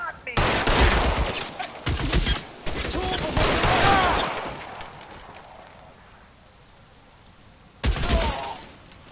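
Gunfire bursts in the video game L.A. Noire, loud volleys in the opening seconds that drop away into quieter game ambience, then a final sharp burst near the end, with a voice talking over parts of it.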